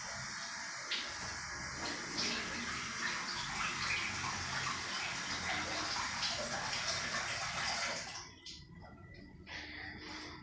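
Water runs from a tap in a steady, hissing splash while hands are washed, then the flow eases near the end.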